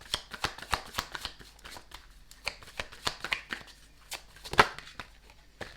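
Tarot cards being shuffled and drawn for a Taurus reading, giving a quick run of crisp, papery flicks and snaps up close, with one sharper slap near the end, and no talking.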